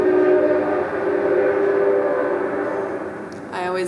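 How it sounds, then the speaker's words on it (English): A train passes through an urban setting with a steady, droning rumble and tonal horn-like hum that lingers for several seconds, fairly loud and continuous, with a brief voice near the end. "I always love that in this urban setting, we hear the train"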